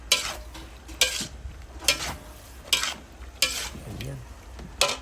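Pork and vegetables sautéing in a pan, a steady sizzle broken by rhythmic scraping strokes of a spatula about once a second.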